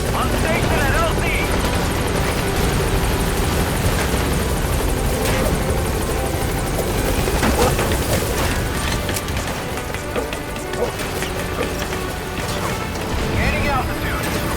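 The Pequod helicopter in Metal Gear Solid V arriving at a landing zone, a loud continuous rotor roar filling the whole stretch, with game effects and a radio-style voice mixed in.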